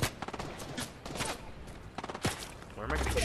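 Scattered video game gunfire, bursts of rapid shots crackling at moderate distance, fairly quiet overall, with a heavier sustained volley building toward the end.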